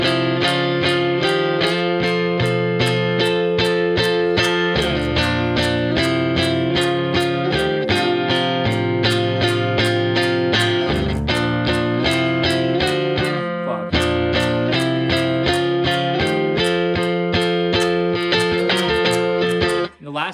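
Guitar playing a riff, a steady strummed and picked pattern with a dense, even rhythm that runs for about twenty seconds.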